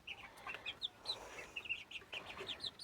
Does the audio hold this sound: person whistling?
no